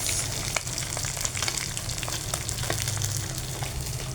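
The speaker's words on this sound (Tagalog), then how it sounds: "Fried na fried ang ating galunggong" Galunggong fish sizzles in hot oil, a constant close crackle dotted with quick pops and spits, fairly loud and with no one talking.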